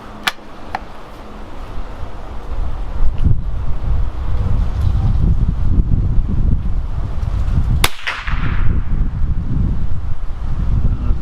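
Strong wind buffets the microphone at an outdoor shooting range during testing of a Savage Mark II rifle, a steady loud rumble throughout with a couple of sharp cracks from shots.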